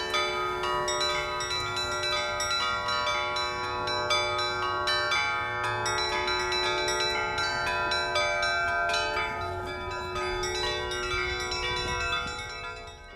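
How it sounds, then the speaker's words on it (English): Church bells ring out across the town of Suzdal, a dense, steady peal of many struck bells with overlapping ringing tones, loud and continuous before fading slightly at the end. "you can't spend long in Suzdal without hearing the unmistakable sound of church bells ringing out across the town"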